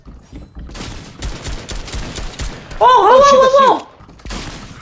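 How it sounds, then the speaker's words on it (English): A lever-action gun fires rapidly in Fortnite, with a string of sharp shots and thuds. A player talks and shouts excitedly over the gunfire. "God, I hate this lever gun."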